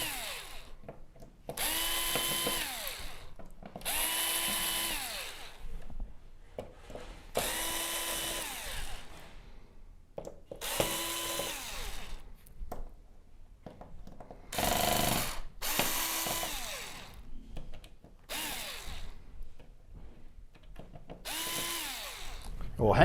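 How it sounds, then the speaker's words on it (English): A power drill removes screws from a Samsung UN65JS9000F TV's power supply board, whirring in about eight short, repeated bursts with brief pauses between them. "Next step is going to be to get all of these screws out of the power supply"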